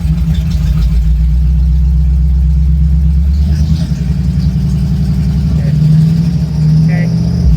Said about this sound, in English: You want to try to rev it now?